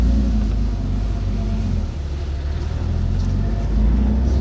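A restored, resto-modded 1972 Porsche 911 engine runs with a steady, deep, close rumble and a slight dip partway through, with no voices.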